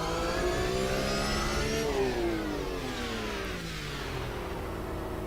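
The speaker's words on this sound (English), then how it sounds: "Let's put a bit of throttle on and see if that changes." A GT race car engine in Automobilista 2 revs under throttle, rising and falling in pitch with a steady, loud, continuous drone and tinny harmonic whine throughout, with no talking.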